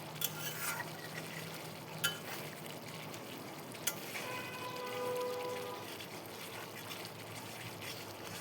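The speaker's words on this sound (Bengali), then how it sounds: "এভাবে নাড়িয়ে দেবো, না হলে নিচে লেগে যাবে" A soya mixture being stirred in a cooking pan, with soft scraping and wet sizzling at close range and a few sharp clinks of the spoon against the pan, fairly quiet throughout.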